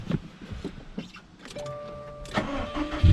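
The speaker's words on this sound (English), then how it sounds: "just got to turn the car on now" A Honda Civic being jump-started cranks over and catches, then its engine settles into a steady idle. The sound is moderately close and has no talking over it.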